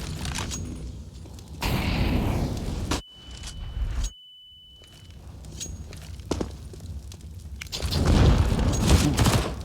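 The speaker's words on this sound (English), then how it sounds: "Good nade" Grenade blasts in Counter-Strike on the Inferno map during a professional match, with two loud, broad bursts followed later by a longer rumbling blast, mixed with footsteps and scattered game noise.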